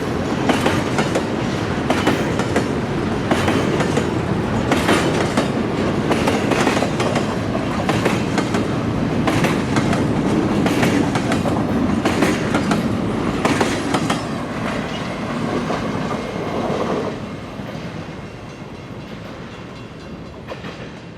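Freight train with old GE locomotives pulling railroad cars at a New England interchange, a loud steady rumble with rhythmic clickety-clack of wheels that gradually fades as the train moves away.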